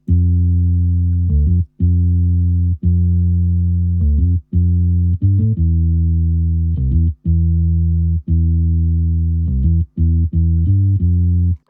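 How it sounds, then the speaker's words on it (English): A deep, sustained synth bass line from the Moto Bass 2 plugin plays alone in a steady rhythm, its notes held long with short gaps between them, loud and upfront. "The last of the melodic elements is the bass line"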